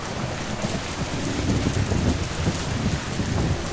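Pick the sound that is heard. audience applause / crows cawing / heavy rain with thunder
heavy rain with thunder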